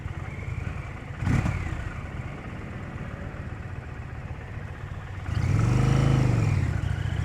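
A 2023 Indian Pursuit motorcycle rides through city traffic, its engine a steady close rumble that rises into a louder rev near the end, with a brief sharp clatter early on.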